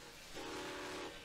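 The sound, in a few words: vintage steam train number 4960, Grand Canyon Railway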